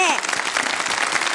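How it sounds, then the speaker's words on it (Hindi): A studio audience at a children's TV segment breaks into brief applause, dense clapping that follows a voice at the start and keeps going to the end. "तालियां तो बजा दो यार"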